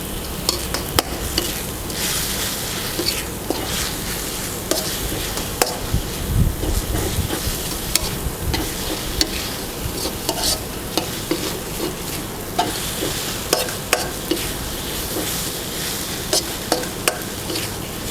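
Glass noodles tossed and stir-fried with egg in a pan for shrimp pad thai, a busy close sizzle with rapid scraping and clacking of the spatula, continuous throughout.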